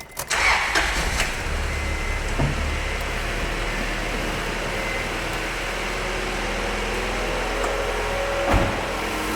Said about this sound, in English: Eric, you should start it up so we can hear the engine.